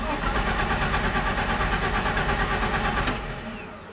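BMW E30 engine cranking and catching after five years sitting, a steady dense mechanical roar throughout that fades somewhat near the end, close and loud with no talking.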